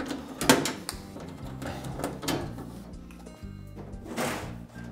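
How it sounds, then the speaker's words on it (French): A 7 mm socket wrench loosening small nuts inside a top-loading washing machine: close metallic clanks and ratcheting rattles, with a couple of sharper knocks and a brief scrape near the end. "Il faut prendre une clé à douille de 7 pour enlever les petits écrous."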